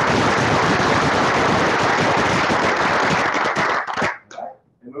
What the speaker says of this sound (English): So let's get another round of applause for those guys.